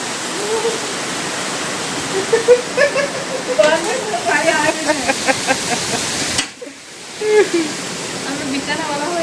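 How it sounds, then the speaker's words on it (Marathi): Heavy night rain pours down in a dense, constant roar onto a balcony while people talk over it; the downpour briefly dips before surging back. "इकडे भरपूर जोरात पाऊस पडतोय"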